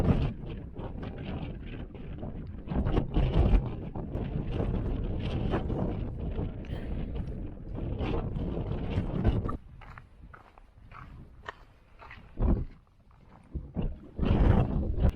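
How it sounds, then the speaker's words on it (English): Strong gusty wind on a mountain in New Hampshire roars and buffets the microphone almost continuously, easing briefly in a couple of lulls before surging again. "Really cold and windy."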